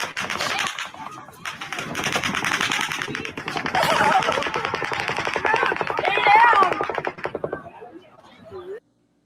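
A volley of automatic gunfire crackles as long rapid bursts of sharp shots, loud and dense, broken by short pauses, while shouting voices break in over the shooting before it stops abruptly.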